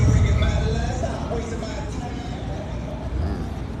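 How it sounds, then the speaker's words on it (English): A motorcycle passes on a street outdoors by a pool, loudest at first and then fading into a low rumble of traffic, with a voice speaking over it. "that's a motorcycle running by."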